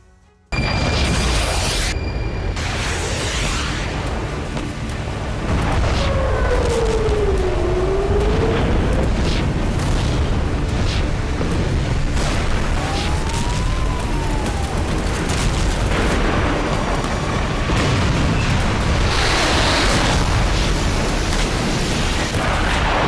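Repeated deep booms and blasts roll over a constant roar, with whistling streaks in between, like a Hezbollah rocket barrage exploding in the distance over Israel over several seconds.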